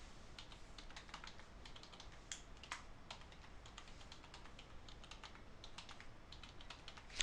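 Steady, quiet clatter of computer keyboard typing as passenger details are filled into a flight booking form, with irregular keystrokes running throughout and a slightly louder tap at the end; no talking.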